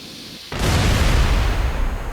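A sudden deep explosion from a kamikaze penguin in the game Bird Game 3, a loud booming blast that rolls on as sustained rumbling noise.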